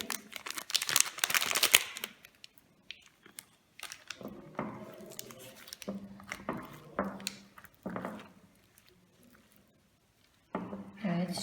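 A snack packet being emptied to the last bits, giving loud bursts of crinkling plastic at the start and then intermittent rustles and crackles with quiet pauses between them.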